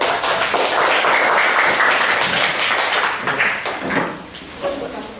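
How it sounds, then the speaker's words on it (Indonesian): A classroom of people claps in a lively burst, many hands together with some voices mixed in, tapering off after about four seconds. "Beri tepuk tangan untuk kelompok 4."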